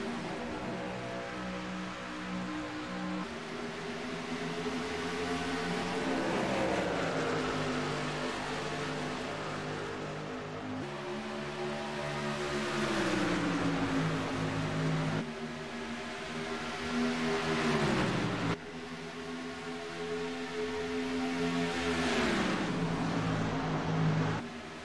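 Race cars roar around a track under green flag racing just after the pace car pulls off, a continuous engine drone with rising and falling pitch as cars pass one after another.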